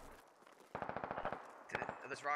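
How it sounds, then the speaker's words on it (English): Rapid bursts of automatic gunfire from an infantry firefight in the military video game Squad, a sustained string of evenly spaced shots followed by a few sharper cracks, with brief talk at the start and end. "but lots of bullets flying around"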